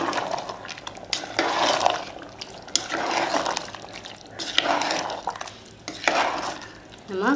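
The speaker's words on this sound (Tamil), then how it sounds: "நல்லா மிக்ஸ் பண்ணி விட்டுட்டு" Mutton biryani with basmati rice is stirred in a pressure cooker, a spoon scraping the pot in about four repeated sweeping strokes, close and fairly loud, with no talking.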